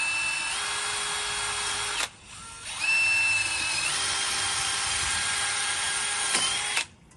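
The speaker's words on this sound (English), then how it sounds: "make sure you always drill the drainage hole underneath these boxes, just in case the water goes in." A power drill bores a drainage hole underneath a floodlight box, with two high whining bursts of close, steady drilling separated by a brief pause and pitch shifts as the bit works through.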